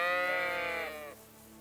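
A single sheep bleat from a video game, a clear wavering tonal cry lasting about a second before cutting off into quiet background.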